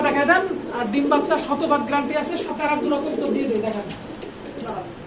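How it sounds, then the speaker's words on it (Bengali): A pair of Pakistani pigeons cooing at close range, soft rolling coos repeated through the clip, mixed with people talking nearby. "এখানে আছে একজোড়া কবুতর"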